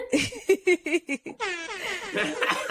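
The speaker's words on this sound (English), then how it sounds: "I think that deserves some air horns." An air horn sound effect plays a rapid run of short, blaring blasts, then a longer wavering honk mixed with laughter.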